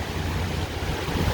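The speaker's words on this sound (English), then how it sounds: "This is about the strongest gust I've seen so far." Strong hurricane wind gusts from Hurricane Ida roar steadily in Houma, producing a dense, continuous rushing blast with heavy low rumble that buffets the microphone throughout, with no pause or lull.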